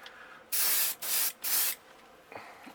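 Gold base coat paint sprayed onto a crankbait lure in three distinct bursts, each roughly half a second, loud, airy hisses separated by brief pauses and heard close up with no talk.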